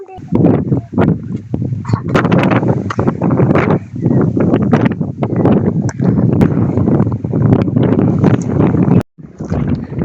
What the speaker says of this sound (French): Il y a un peu de vent, mais c'est très léger.